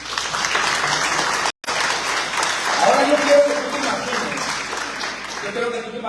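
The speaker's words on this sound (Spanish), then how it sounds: "Gracias, brother, por el aplauso, brother" A church congregation applauds during a sermon, a steady wash of clapping that cuts out for an instant, then resumes as a voice speaks over it and the clapping fades toward the end.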